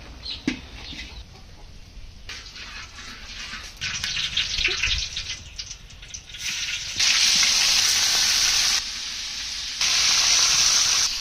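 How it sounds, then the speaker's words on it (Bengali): A whole 3 kg pangas fish, rubbed with turmeric and salt, frying in oil, a loud hissing sizzle that surges in bursts and stays steady near the end, with no talk. "এবার মাছটা ভাইতে নেব।"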